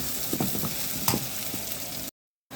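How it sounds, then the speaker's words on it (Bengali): Masala paste of ginger, cumin, turmeric, coriander, salt and chilli frying in a pan for a fish curry with tomato and coriander leaves, a steady close sizzle with a few stirring scrapes, cutting off abruptly near the end. "দিয়ে মশলাটাকে কষা নিচ্ছি"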